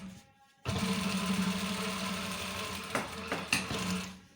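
An electric sewing machine stitches along the edge beside a zip on a pair of police uniform trousers, a steady whirring run starting after a short quiet pause, with a few brief clicks and bumps near the end.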